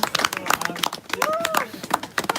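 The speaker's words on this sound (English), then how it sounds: "Give a big applause to them." A small audience at a live talk battle in Davos claps in scattered, uneven bursts, and a whistle-like tone rises briefly partway through as a voice talks underneath.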